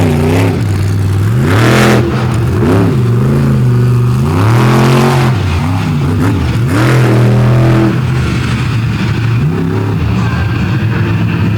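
A monster truck engine revs hard at an outlaw drag race in Canfield, Ohio, loud and close, rising and falling in repeated sweeping surges over a constant roar.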